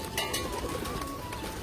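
A large flock of pigeons taking flight: soft, low cooing under a steady hum, with brief fluttering bursts scattered through the short stretch.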